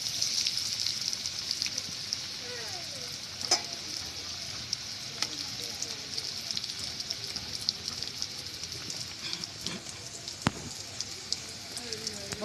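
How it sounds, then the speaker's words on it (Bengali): Fish fingers fry two or three at a time in hot oil, a steady crackling sizzle with scattered sharp pops and spits throughout, fairly close and moderately quiet. "তেল গরম হয়ে গেছে, এবারে আমি ফিশ ফিঙ্গারগুলোকে ছেড়ে দেবো তেলে"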